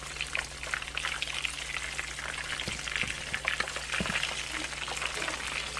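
Chicken thighs frying in a pan of pure lard and Crisco shortening on a stove, giving a steady, close crackling sizzle with a few louder pops and a low hum running underneath.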